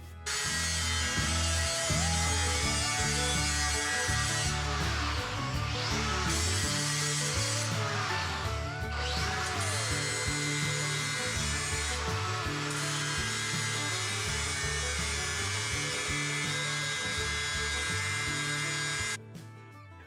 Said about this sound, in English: I'm going to clean this up a little bit with a grinder